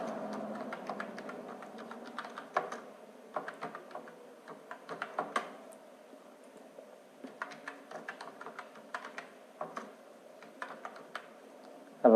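Typing on a computer keyboard while working in Microsoft Office Word: quiet, irregular bursts of key clicks with short pauses between runs, continuing steadily throughout and close up, with no voice over it.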